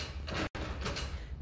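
In the game Slides & Doors Escape 2, a door glides open with a soft whoosh, broken by a split-second dropout and then a second swell of sliding noise, all over a faint steady hum, no speech.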